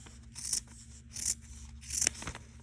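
Scissors trimming folded-back extra fabric on a quilt block: three short crisp snipping bursts, close and fairly quiet, spaced roughly evenly apart.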